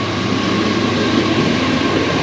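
A train rolls past outdoors on a cold, windy, snowy day, giving a loud, steady rumble with a continuous broadband roar and no voices.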